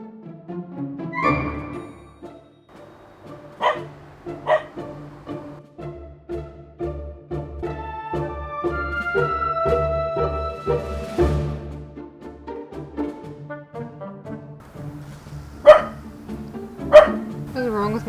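A dog named Strider barks in a backyard by a wildlife pond, giving scattered sharp barks and yips, a few loud ones near the end, among quieter sounds and some talk.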